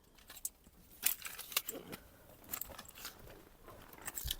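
A pair of Renault Scenic 1.5 dCi car keys jangles in a series of short, bright metallic clinks, loud and close, with quiet pauses between the shakes.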